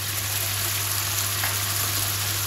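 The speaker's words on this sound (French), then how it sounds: "On va ajouter l'ail" Garlic sizzles in a pan with spiced chicken, a constant close frying hiss over a low steady hum, with no voice.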